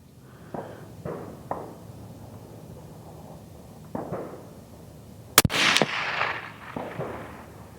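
A rifle fired at a long-range shooting range, mostly distant soft pops with one sharp loud crack near the end followed by a brief echoing tail.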